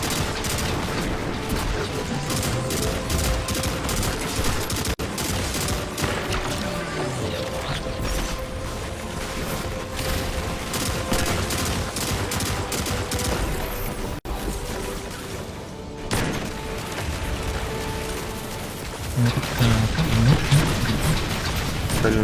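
Gunfire in the video game Destiny 2 during a Vanguard Alert, heard as dense, rapid mechanical clatter of repeated shots running steadily throughout, with a louder burst near the end.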